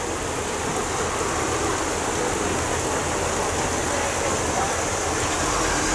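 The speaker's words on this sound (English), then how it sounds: "It's just rain." Steady, heavy rain pouring continuously, a dense even hiss with no pauses and no voices.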